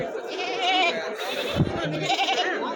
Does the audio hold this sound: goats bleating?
yes